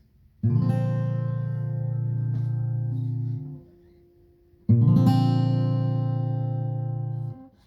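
Two chords strummed on an acoustic guitar, each ringing for about three seconds before fading, separated by a short pause.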